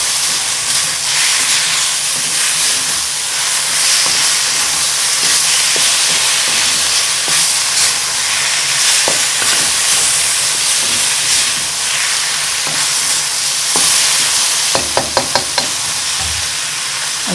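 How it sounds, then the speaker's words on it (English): Cumin lamb with chilies and peppers being stirred in a hot pan, a loud continuous hiss and sizzle with scattered scraping clicks of the utensil and a quick run of taps near the end. "return the peppers to the pan, then keep on stirring."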